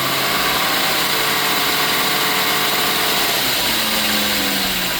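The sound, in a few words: car engine revving up from idle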